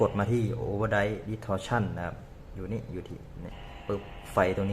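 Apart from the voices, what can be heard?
None of the usual background noises is heard.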